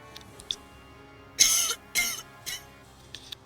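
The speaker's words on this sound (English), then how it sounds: "I had to cough." A person coughs in short bursts: a couple of faint throat sounds, then two strong close coughs and a smaller one trailing off, in a quiet room with no talk.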